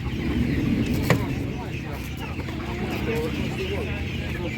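Chickens cluck softly at a busy animal market, set against a constant din of crowd noise and distant voices.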